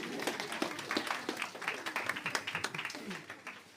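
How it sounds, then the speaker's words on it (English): A science festival audience giving themselves a round of applause, rhythmic moderate clapping with distinct individual claps, mixed with voices talking over it. "I think you can give yourselves a round of applause."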